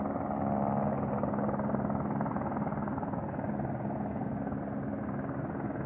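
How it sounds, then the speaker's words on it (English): A military helicopter hovers at a distance, its rotor a steady, continuous low throb with no other sounds. "That's a helicopter just hovering"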